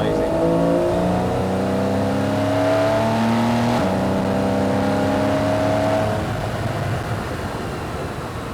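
A Porsche 911 Carrera S (991.1) engine without sports exhaust revs hard, climbing through gears in rising and falling sweeps, loud and close, then easing off toward the end.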